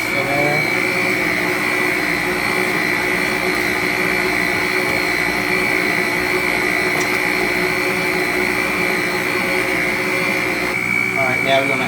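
An electric mixer whirs steadily and loudly as it blends buttermilk and regular milk into cinnamon roll dough, a constant motor drone with no pauses.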